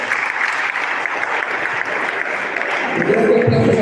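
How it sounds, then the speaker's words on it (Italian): A crowd at a tournament award ceremony gives sustained applause, dense and loud, and voices join in near the end. "Un grande applauso all'STS."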